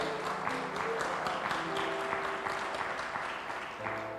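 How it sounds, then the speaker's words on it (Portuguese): A congregation in a church service applauds joyfully, a continuous, moderately loud rain of claps from many people with faint voices and sustained tones running beneath. "Pode aplaudir o Senhor com alegria."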